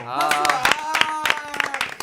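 A few people clap in sharp, irregular bursts in a KBS radio studio, close to the microphone, mixed with lively talking and laughter.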